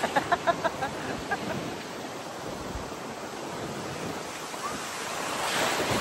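Heavy ocean surf at Boracay crashes and washes continuously, a loud, broad roar of breaking waves with a few soft thumps at the start.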